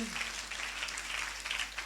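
Congregation clapping during a church sermon, a broad patter of many hands at moderate loudness, continuous over a couple of seconds with a brief trace of voice at the start.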